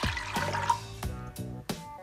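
Water is poured into a pressure cooker for a chicken stock, splashing and gurgling in short, uneven bursts close by.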